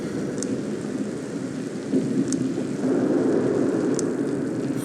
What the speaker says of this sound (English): The storm must be causing interference.